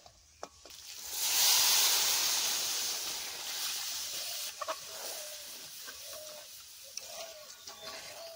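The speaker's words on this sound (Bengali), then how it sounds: "এবার ঝোলের জন্য গরম জল করে রেখেছি, গরম জল দিয়ে দিচ্ছি।" Hot water poured into sizzling mutton curry in a pan, a loud hissing burst of steam rising fast and then settling into a steady fizzing sizzle with light stirring clicks.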